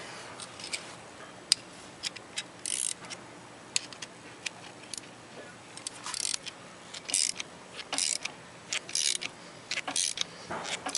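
Brake line flaring tool having its anvil screwed down hard into a fresh flare while fitting a hydraulic handbrake; close, irregular clicks and ratcheting metal ticks that come in short bursts across the clip, with no talking.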